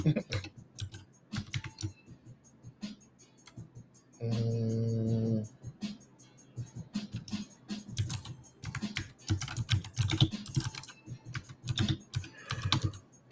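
Rapid clicking of computer keyboard keys in bursts of typing, close and fairly loud, with a brief steady electronic tone partway through and a voice speaking between stretches.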